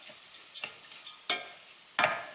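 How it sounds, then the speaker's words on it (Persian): A lentil and quince curry being stirred in a pot, with a series of irregular scraping and clinking strokes over a faint sizzle. "باز قشنگ هم میزنیم."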